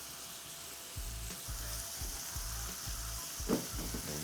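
Garlic butter shrimp with parsley and dill sizzling in a pan, tossed repeatedly so the steady frying hiss is broken by a regular series of soft thumps and shuffles, close and moderately loud.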